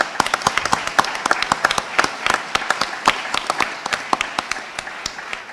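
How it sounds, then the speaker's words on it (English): A conference audience at the Left Forum 2017 closing plenary applauds its volunteers: many sharp, scattered hand claps, loud and close, with an uneven rhythm throughout and no voices over them. "I think they deserve a round of applause also"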